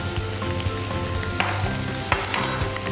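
Vegetable stuffing seasoned with coriander powder, red chilli powder and salt is stirred and mixed in a pan for uttapam, with a steady sizzle and repeated spoon scrapes close by, no talk.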